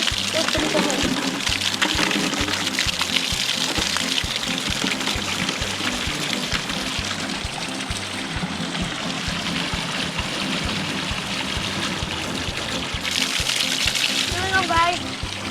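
Lake water pours and gurgles steadily into a can at a campsite by Loon Lake, a continuous close splashing stream that runs without pause from start to finish.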